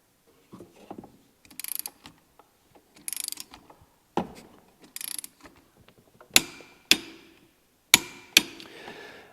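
A ratchet wrench clicks in bursts while torquing a snowmobile primary clutch from a Thunder Products clutch kit, several separate ratcheting runs giving way to sharp, close metallic clacks.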